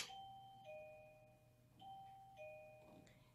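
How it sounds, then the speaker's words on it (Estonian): A quiet electronic doorbell plays a repeated two-tone ding-dong chime, the tones ringing out clearly in a still room. "siis on kuulda justkui nagu uksekella häält"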